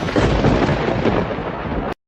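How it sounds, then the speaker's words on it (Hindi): Thunder rumbles during an unseasonal rainstorm as a loud, continuous broadband roll that lasts about two seconds and then cuts off abruptly. No one speaks. "ये बिना मौसम की गरजती हुई बारिश हमें क्या संकेत देती है?"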